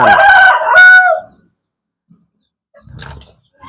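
A fighting rooster crows loudly once at close range, followed by silence and then a faint rustle.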